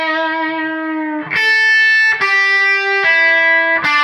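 Loud distorted electric guitar plays a slow phrase from a solo, four sustained notes each changing pitch with a brief pick attack, ringing with heavy overdrive.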